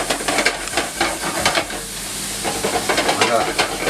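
Garlic mushrooms fry steadily in butter and olive oil in a pan, giving a dense, continuous sizzle close up, with scraping stir sounds woven through it.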